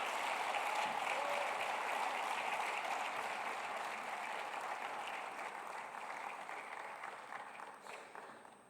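Audience applause fills a conference hall in Kigali after a speech at a youth business event, sustained dense clapping that holds steady and slowly tapers off toward the end.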